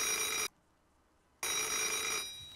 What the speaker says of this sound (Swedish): Nu ringer det.